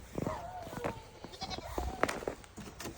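A goat bleats several times in a wavering, nasal voice close by, the calls breaking through a busy outdoor background while a person talks.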